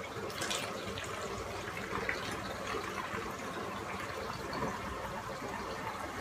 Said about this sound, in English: you're gonna take your half cup of vinegar and put it in your spray bottle